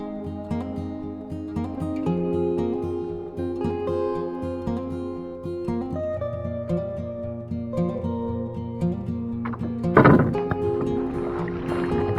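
Lightly loaded canoe paddled on a lake in Maine, with soft water and paddle sounds under a steady low hum, and a brief splashy burst near the end.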